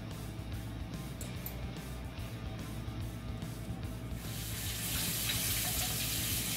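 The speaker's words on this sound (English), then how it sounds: "Just washing my hands." Hands washed under a running kitchen tap, steady close splashing water that grows louder and brighter as the flow strengthens.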